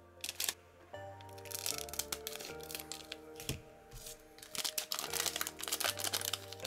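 A Demon Slayer collector card pack's wrapper crinkles and tears open close by, in quick irregular crackles and rustles over several seconds, with soft music running underneath.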